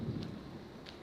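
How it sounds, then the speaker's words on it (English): Low, distant rolling thunder rumbling steadily under a rain-like hiss, heard alone with no talking, soft and continuous throughout. "Bit more thunder."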